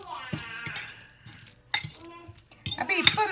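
Avocado guacamole salad is mixed in a bowl, a spoon clinking and scraping against the dish in short bursts, close by, with brief voice-like tones in between.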